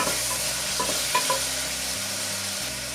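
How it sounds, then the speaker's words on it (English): Chopped tomato sautéing in a pan for an Indian dal, giving a dense, steady sizzle with soft stirring scrapes, close and continuous with no voices. "Now add 1 big tomato chopped. Saute till it becomes very soft."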